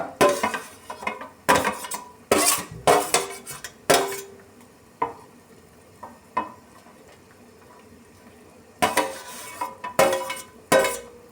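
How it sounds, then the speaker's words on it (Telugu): Semiya upma being stirred in a pan makes bursts of loud metallic scraping and clanking from a spoon against the pan, in rapid clusters with quieter gaps under a faint sizzle, close by with no talking. "వేసిన తర్వాత కలుపుకోవాలి కాసేపు, లేదంటే ఏమంటారు అతుక్కుపోయి చండాలంగా అయిపోద్ది"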